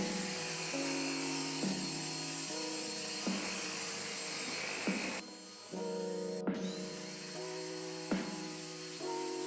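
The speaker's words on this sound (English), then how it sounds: "Mommy is vacuuming." A household vacuum cleaner runs steadily indoors with a continuous whining motor drone, its pitch shifting as it is pushed back and forth, with a brief dip partway through and no talking.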